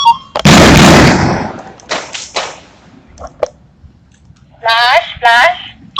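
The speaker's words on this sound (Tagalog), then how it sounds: "Dito sa ground floor sa Senate yung nanggagaling yung putok." Loud gunfire reported from the ground floor of the Senate opens with a long, harsh blast, then a few sharper cracks, and people speak near the end.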